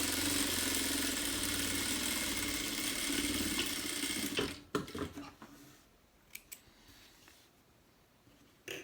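A sewing machine stitches fabric for a car trash bag, running steadily and loud for about four seconds, then stopping and giving way to a few sharp clicks and handling knocks.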